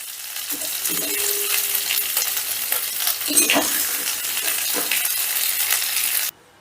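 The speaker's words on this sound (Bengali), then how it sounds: "ক্যাপসিকাম আর পেঁয়াজটা আমি জাস্ট একটু নাড়াচাড়া করে তুলে নিচ্ছি" Capsicum and onion being stir-fried in a pan, a continuous loud sizzle broken by repeated scraping and clattering strokes of a spatula, ending abruptly; no talking.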